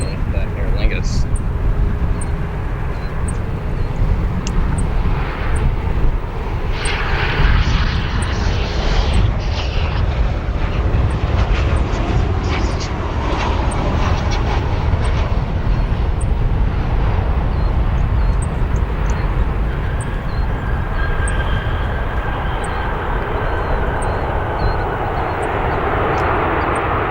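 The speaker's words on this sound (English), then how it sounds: "Beautiful landing here for that United 737-900 extended range." A United Boeing 737-900ER airliner lands at Chicago O'Hare, a broad, steady roar of engine and rushing noise held throughout, with outdoor traffic hum beneath.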